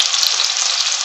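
Carrots frying in a pan for a broccoli vegetable sauce, a loud, close, continuous hiss of sizzling with no voices, ending in a faint clack.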